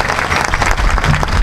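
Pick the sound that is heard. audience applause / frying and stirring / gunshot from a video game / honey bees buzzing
audience applause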